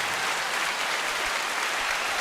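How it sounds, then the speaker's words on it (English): Dense, continuous clapping fills the space at an even level throughout, sounding like a canned or crowd round of applause dropped into a casual podcast conversation, with no voices on top. "Devin, can we just put some applause in for that fucking give a round pun?"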